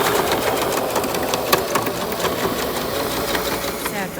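A sewing machine stitching a seam in preschool backpack fabric, a fast steady mechanical whirring and knocking of the needle running close and loud throughout, with someone talking faintly underneath.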